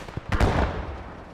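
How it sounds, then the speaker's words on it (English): A mortar fires in a WWII Iwo Jima battle game, a short sharp thump with a quick booming tail, preceded by a faint earlier pop, heard at moderate distance. "that is a nice mortar"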